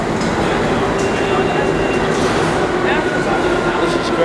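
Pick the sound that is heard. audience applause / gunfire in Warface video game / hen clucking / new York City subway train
new York City subway train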